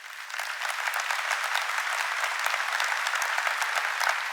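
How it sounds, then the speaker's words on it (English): Sustained applause from a large keynote conference audience, steady and full throughout, with no speech over it. "Please give him a big round of applause."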